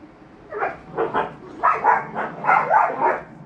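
Dogs bark in a quick series of about seven loud, close yaps, spaced in uneven bursts with short gaps between them.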